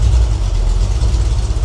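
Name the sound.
freshly rebuilt 302 engine running during break-in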